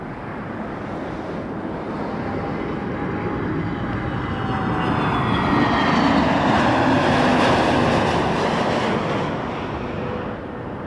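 A jet airliner takes off from runway 05 at Toronto Pearson Airport, a broad roaring rumble that swells over several seconds as the engines spool up and the aircraft passes, then eases slightly, heard from a distance with no talking.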